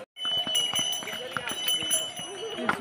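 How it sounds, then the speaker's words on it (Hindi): Horses' hooves clip-clop at a horse stop on the Hemkund Sahib trail near a glacier, with scattered irregular hoof knocks and clinks under ongoing nearby talk and background bustle. "ये स्टॉपेज है घोड़े का"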